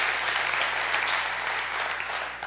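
Steady, dense audience applause fills the whole stretch, a continuous close wash of many hands clapping with no voices over it.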